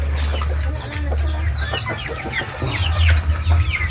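Several chickens cluck and chatter close by in a farmyard, with short overlapping calls over a low background hum.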